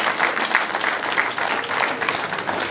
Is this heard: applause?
yes